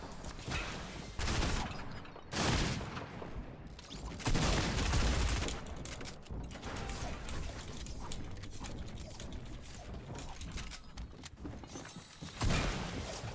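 Loud, dense bursts of video game gunfire, including shotgun blasts, come in several rapid volleys with short gaps, close and harsh throughout.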